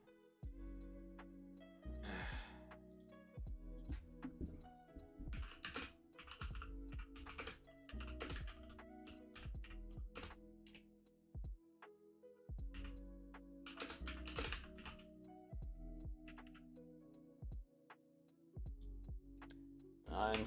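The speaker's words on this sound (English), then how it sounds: "I'm typing to someone." Computer keyboard typing in bursts of rapid clicking keystrokes, close and fairly loud, with short pauses between runs and a low hum underneath.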